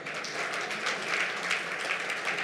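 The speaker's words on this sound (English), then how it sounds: "If you want to clap, you can clap." Audience clapping at a side meeting on Zimbabwe debt arrears, a steady moderate round of applause from a room of attendees with uneven individual claps.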